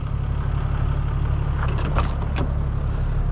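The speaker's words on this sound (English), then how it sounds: "this is a diesel, a turbo diesel." A 1992 Toyota Land Cruiser with a 4.2-litre turbo diesel engine runs steadily, a deep low rumble holding constant throughout with a few faint clicks and rattles over the top.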